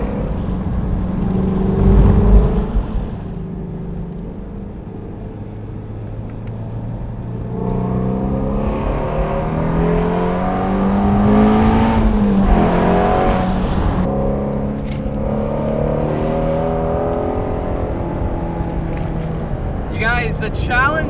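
Ford Shelby GT350R engine pulling hard on winding mountain roads, a loud continuous roar that rises and falls with gear changes from inside the car, with someone talking over it.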